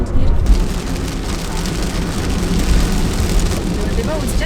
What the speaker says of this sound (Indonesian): Tiba-tiba hujan guys.